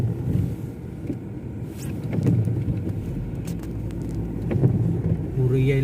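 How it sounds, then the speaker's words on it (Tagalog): Cars drive along an icy winter road in Italy, producing a rumbling, swelling traffic noise as vehicles roll past, moderately loud with surges and dips. "kita nyo yung mga sasakyan"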